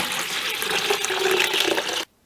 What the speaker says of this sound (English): Dump water in.